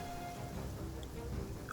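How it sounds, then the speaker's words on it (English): Rain falling in the video game Genshin Impact, a steady, dense hiss of drops that runs unbroken through the moment at a soft, even level. "It's also raining, so that's even better."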